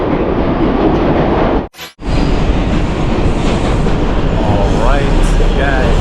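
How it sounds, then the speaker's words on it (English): A subway train rides toward the Bronx in New York with a loud, steady rumble and rail clatter. The noise briefly cuts out, then resumes, with faint squeals near the end. "I made it on the train, which is going to take me all the way to the Bronx."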